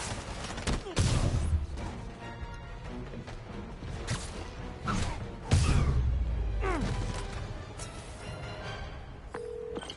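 Gunfire in the Spider-Man video game, two heavy bursts of impacts and shots about four seconds apart over a busy game soundtrack.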